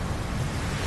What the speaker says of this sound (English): There's kind of a speck here of this one wave that's panning over to the left.